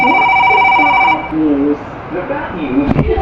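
A phone rings with an incoming call, a steady repeating electronic ringtone in the first second before it cuts off, followed by quieter room sounds and a brief knock near the end.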